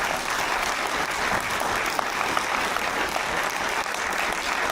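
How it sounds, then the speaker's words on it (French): A cinema audience applauds after a screening of a rugby club documentary, steady dense clapping from a packed room, even and sustained with no talk. "On peut applaudir Jacques Vivian"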